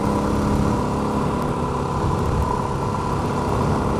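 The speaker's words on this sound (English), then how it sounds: "just let the motor kind of chug along and it'll still break loose the back tire" A Honda XR650L motorcycle's big single-cylinder engine chugs along at low revs, a steady, loud, continuous rumble held through the whole stretch with no voices.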